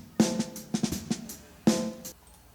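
Several close snare drum hits in a mix, with a ringing, boxy head resonance near 639 Hz lingering after each strike, played in a short uneven pattern.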